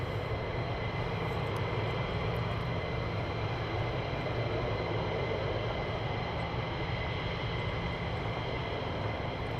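Military aircraft jet engines idling and taxiing at RAF Lakenheath, a steady loud continuous whine and rumble from nearby, with no voices.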